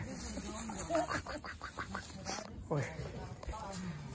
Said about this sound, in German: Ente dort.